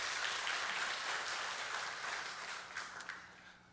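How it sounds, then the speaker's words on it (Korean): Audience in a church gives applause in support of a missionary; sustained, dense clapping from many hands, gradually thinning and fading toward the end. "우리가 바라는 마음으로 한번 박수 격려하겠습니다"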